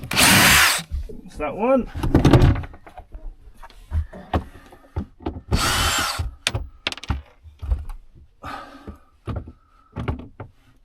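A power drill whirs in several loud bursts while removing screws on a tour bus being stripped down, mixed with clunks and handling noises as a voice speaks briefly.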